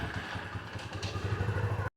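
A motorcycle being ridden rumbles with a loud, close engine and rhythmic low pulsing plus some wind buffeting, cutting off abruptly at the end.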